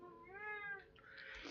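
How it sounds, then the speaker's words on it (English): Domestic cat meowing once, a clear, close, drawn-out cry with a rising then falling pitch, followed by faint rustling, with no one speaking. "and that's my cat."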